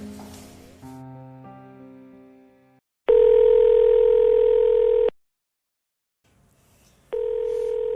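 Electronic telephone ring tones sound for an incoming call in pulsed bursts, loud and close, with a quieter tonal pattern first and a gap of silence between rings; no voices speak over them.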